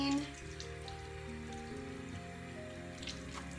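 Water running and splashing while soap lather is rinsed off skin, a steady close patter like rain on a surface continuing throughout with no talk.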